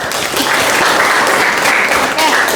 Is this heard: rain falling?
no